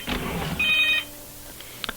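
A telephone rings with a short electronic tone burst over a quiet background, followed by faint clicks, heard during a strategy game session.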